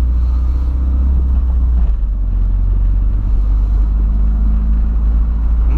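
A boxy Volkswagen Voyage car idling steadily, its engine a low, continuous rumble heard up close with no talk, the tone dropping slightly partway through.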